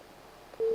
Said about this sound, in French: Il y a les standards qui sonnent.